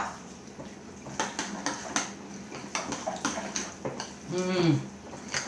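Soaked raisins are rinsed under running water in a home kitchen, with splashing, dish and utensil clinks, and a short burst of louder pouring near the end, close by and fairly quiet.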